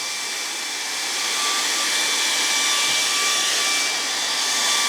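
Hair dryer blowing hot air over hiking boots, a steady loud whirring hiss with a faint motor whine, continuous and close throughout.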